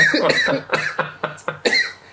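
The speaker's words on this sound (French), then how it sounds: "c'est le tabac qui me fait tousser" A man coughs from smoking tobacco, a close burst of about six harsh, rhythmic coughs in quick succession, loud and alone.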